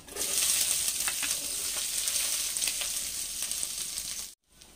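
Onions frying in hot oil with green chilli and five-spice seeds in a pan, giving a loud, steady, close sizzle and crackle that runs throughout and cuts off abruptly near the end.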